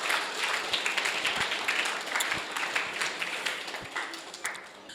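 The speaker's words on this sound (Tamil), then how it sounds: "சத்தமாக கைத்தட்டல் கொடுங்க" Government school students applaud during an IT office visit, a dense, sustained burst of clapping from a group that holds steady at moderate loudness and tapers slightly near the end.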